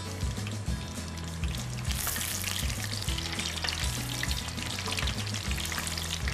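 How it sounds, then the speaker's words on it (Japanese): Pumpkin meat rolls deep-frying in hot oil, a steady dense sizzle and crackle running throughout, with a low rhythmic hum underneath and no talking. "今日はかぼちゃに火が入ってますので、だいたい4分ぐらい揚げていきたいと思います。"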